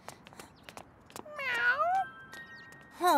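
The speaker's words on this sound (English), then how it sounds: "A cat. Were you abandoned?" A cartoon cat gives a couple of high, wavering meows near the middle of the clip, with another short meow at the end, over light background sounds and sparse clicks and taps.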